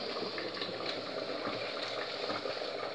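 Water pours steadily into a cooking pot for tomato sauce, a soft continuous gushing and trickling heard close and fairly quiet, with no talk over it.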